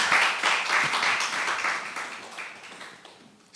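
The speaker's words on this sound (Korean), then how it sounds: "우리 박수 한번 합시다" A church congregation breaks into clapping during a Sunday morning service, a dense burst of hand claps that gradually thins and fades out.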